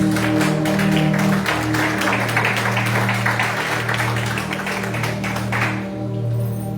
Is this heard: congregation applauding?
yes